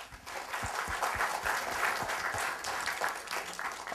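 Applause from the audience at a Google Maps editing meetup in Bengaluru, dense, steady clapping filling the room for several seconds without a break.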